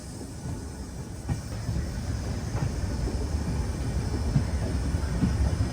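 A Kumbh Mela special train from Prayagraj pulls out of a platform, a low steady rumble and hiss of rolling coaches building gradually, with no talk.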